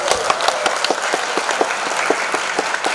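Loud, dense applause fills the hall at the swearing-in ceremony of a city sports committee, a steady wash of many hands clapping with no voices over it.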